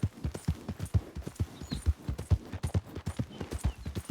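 Steady clip-clop of a horse's hooves while riding in Red Dead Redemption 2, a close, rhythmic galloping pattern running throughout with no talking.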